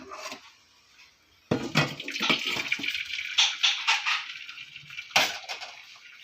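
Cooked egg noodles and their water poured out in a kitchen: a sudden loud splashing gush that keeps going with uneven surges and sloshes, following a quiet start.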